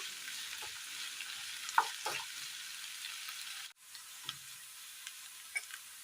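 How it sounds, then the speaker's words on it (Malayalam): Tapioca Manchurian being sautéed in a pan, a soft steady sizzle with occasional light clicks and scrapes of the spatula, fairly faint and close, no talk. "നന്നായി ഒന്ന് വഴറ്റിയെടുക്കാം."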